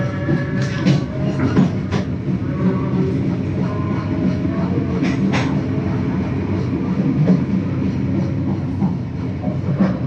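The Matarmaja passenger train runs between Semarang Poncol and Semarang Tawang stations, heard from inside the carriage as a steady loud rumble with rhythmic wheel clacks across the rail joints.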